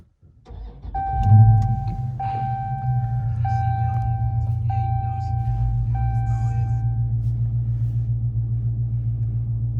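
A 2019 Dodge Charger Scat Pack cranks over with a starter whir, then fires into a loud, deep rumble that settles into a steady idle, close by, with a repeating chime sounding over it.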